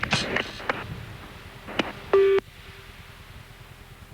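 A telephone number is dialed on a landline handset, a short run of electronic keypad tones followed by a louder steady beep, with brief voices and handling noise around it on an old home cassette recording.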